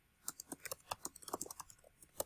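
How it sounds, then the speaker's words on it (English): Fingers type on a computer keyboard in a quick, uneven run of close, crisp key clicks. "So as you're typing in here"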